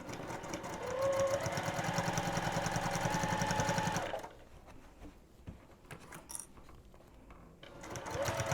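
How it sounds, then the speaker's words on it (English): A sewing machine back-stitches a seam on a boxy fabric bag, running in a loud, rapid rhythmic whir for about four seconds, going quiet with faint handling noises, then starting up again at the end. "then we are going to back stitch."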